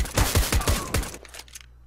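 Rapid bursts of gunfire in Counter-Strike: Global Offensive during a competitive match, several loud close shots in quick succession followed by quieter, more distant echoing reports.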